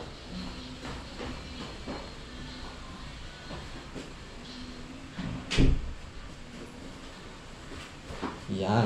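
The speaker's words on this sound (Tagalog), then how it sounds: "sinara ko lang po yung pinto" An indoor door is pulled shut with a single solid thud about midway, over steady room noise and faint background voices.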